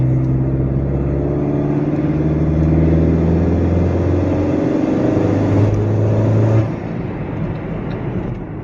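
A Honda Accord 2.0T fitted with a Stage 2 turbo pulls hard at full throttle in fourth gear, a loud, steady engine drone rising in pitch for several seconds before easing off as the throttle lifts.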